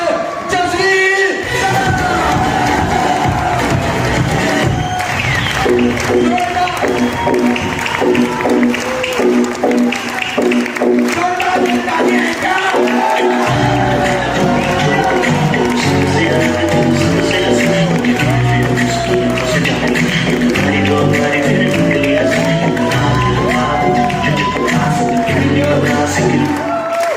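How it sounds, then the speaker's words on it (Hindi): An audience at a Safe Shop leadership event in Gurgaon rises to give mentor Mr. Jasvir a standing ovation, with loud, sustained clapping, cheers and whoops filling the hall while music plays underneath. "सारे खड़े हो जाएगा और उनके लिए जोरदार ताली होनी चाहिए मिस्टर जसवीर"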